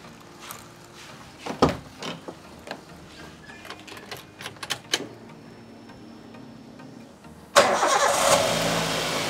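A first-generation Toyota Avanza S engine cranks with a series of clicks and starter whirs, then catches at the end and roars into a loud, steady idle.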